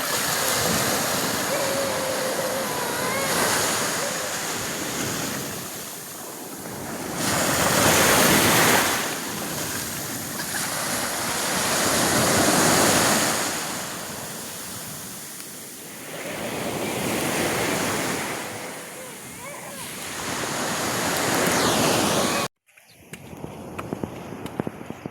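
Surf washes onto the shore at Dolo Boulevard in steady, rolling swells, with wind buffeting the microphone throughout. The waves rise and recede every few seconds until the sound cuts off abruptly near the end.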